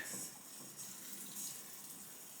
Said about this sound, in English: Water those seeds right in